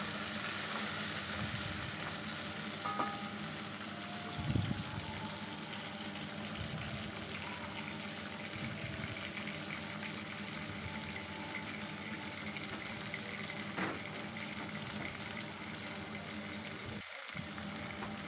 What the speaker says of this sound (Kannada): ಈರುಳ್ಳಿ ಮತ್ತು ಟೊಮೆಟೊ ಹಾಕಿದ್ಮೇಲೆ ಚೆನ್ನಾಗಿ ಮಿಕ್ಸ್ ಮಾಡಿಕೊಂಡು ಒಂದು ಸ್ವಲ್ಪ ಹೊತ್ತು ಬೇಯೋದಕ್ಕೆ ಅಂತೇಳಿ ಬಿಡ್ತಾ ಇದ್ದೀನಿ.